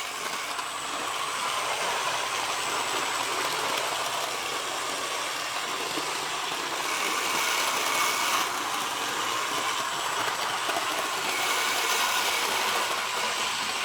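A repaired Model Power CN model locomotive motor runs with a steady, continuous hum and whir, holding at an even level for the whole stretch with no voices.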